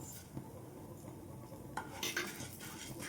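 Urad dal and coriander seeds dry-roasting in a pan for sesame spice powder, stirred with a metal spoon: a steady low rustle of rattling grains with scattered clinks and scrapes, close and fairly quiet, no voices.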